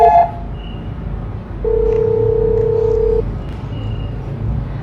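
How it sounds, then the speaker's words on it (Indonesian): A telephone is dialed: a short opening tone, then a long steady beep held for over a second, followed by quieter line noise and faint tones, with no one talking. "Gue coba telepon Nisa deh."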